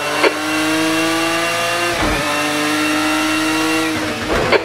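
Race car engine in Project Cars 2 during a community GTS championship round, loud and close, holding a high revving tone with a quick downshift blip in the middle and another near the end, with no voices.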